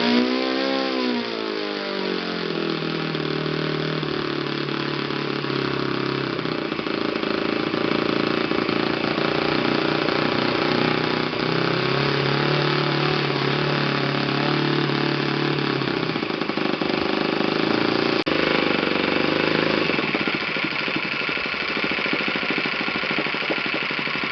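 An Enya 53 4C four-stroke model aircraft engine idles steadily and loudly up close, a buzzing drone with a slight pitch dip near the start and a change in tone near the end.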